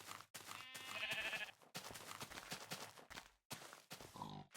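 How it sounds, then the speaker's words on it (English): Blocky farm cow in the Minecraft video game giving a couple of drawn-out, bleating moos close by, over steady game background noise and footsteps. "Cow is shouting no at me."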